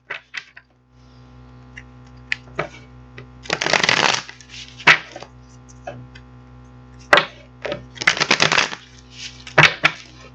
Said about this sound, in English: we're going to get these cards shuffled up